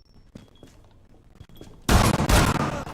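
A grenade goes off in Rainbow Six Siege after a few quiet footsteps and clicks, the blast arriving suddenly as a loud, sustained roar of rumbling debris that fills the rest of the moment.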